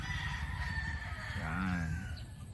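Roosters crowing near a recording area, one clear cock-a-doodle-doo rising and falling over a steady background of other faint crowing and farmyard noise.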